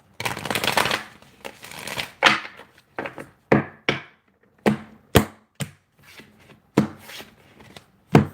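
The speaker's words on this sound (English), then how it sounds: "One more shuffle." Cards being shuffled in a series of quick riffles and sharp bursts, close and fairly loud, with short pauses between each shuffle.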